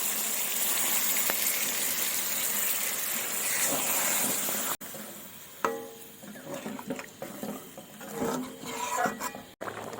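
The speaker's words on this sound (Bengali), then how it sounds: "এবারে ঝোলটা দিয়ে দেব।" Gravy pours into a pot of chicken korma with a steady liquid gush, then breaks into scattered wet sizzling and stirring sounds with brief bumps, close and moderately loud, no speech.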